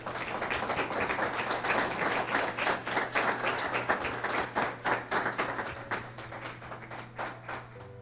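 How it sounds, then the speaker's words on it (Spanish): A church congregation applauds during a Spanish-language sermon, many hands clapping in a dense, fairly rhythmic patter that holds steady and gradually thins toward the end, with a low hum beneath. "¿Cuántos le pueden dar un aplauso al Señor?"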